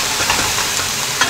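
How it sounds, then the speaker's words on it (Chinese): Pieces of marinated half chicken, cut up and coated in cornstarch, sizzle loudly as they fry in a pan. The hiss is steady and close, with faint scrapes of stirring. "我们先煎这个鸡啊"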